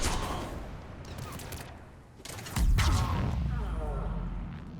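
Rapid bursts of gunfire in the Mass Effect 3 video game, close and loud, with a heavier sustained barrage building midway through, mixed under voices talking.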